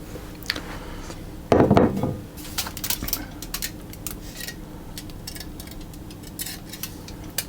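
A pastry tin holding passion fruit filling over a pastry base is shaken, giving a short loud metallic rattle early on, followed by scattered light taps and clicks against a quiet kitchen background.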